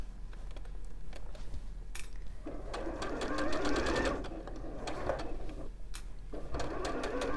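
A sewing machine stitches fabric in several bursts of fast, rattling whirr, pausing briefly between runs, with faint background voices.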